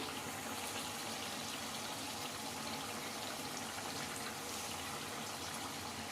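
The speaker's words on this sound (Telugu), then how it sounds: "కొంచెం వాటర్ ఇందులోని కలిపి పోసానండి నేను" Water goes into a simmering canal fish curry, a steady, even rushing and bubbling wash that fills the whole stretch without pause, fairly faint and with no talk.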